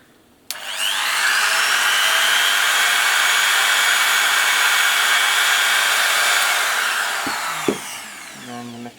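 A Katsu wood router switches on and runs at lower speed, a loud, steady high-pitched whine held for several seconds, then winds down and stops, followed by a few handling clunks.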